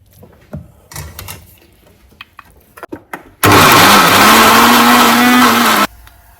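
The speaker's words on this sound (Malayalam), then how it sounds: "നമ്മുടെ സവോളയും തക്കാളിയൊക്കെ ഒരുമാതിരി ഒന്ന് വഴണ്ട് കഴിയുമ്പം നമുക്കിതിനെ ഒന്ന് അരച്ചെടുക്കാം" A mixer grinder grinds sautéed onion and tomato for chicken curry, starting abruptly with a loud, steady whirring roar that holds for about two and a half seconds and then cuts off, after quieter kitchen clatter and handling sounds.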